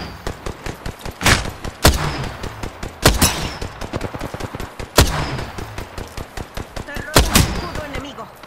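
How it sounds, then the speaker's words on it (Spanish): Apex Legends gunfire: rapid bursts of shots with sharp louder cracks at irregular intervals, dense and close, with in-game voice lines heard among the firing. "¡Oye, me están disparando!"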